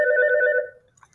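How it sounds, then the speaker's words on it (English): A telephone rings with an incoming call, a single loud two-tone electronic ring lasting just over half a second before it stops, heard alone. "Of course, I'm going to get a phone call."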